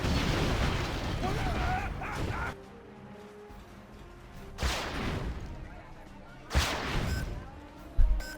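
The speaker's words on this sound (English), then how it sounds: "Artillery comes in between the 2 arms dealers." Artillery strikes in a real-time strategy video game, three or four heavy booming impacts spaced a couple of seconds apart, each a sharp burst fading quickly, with a voice talking in the quieter gaps.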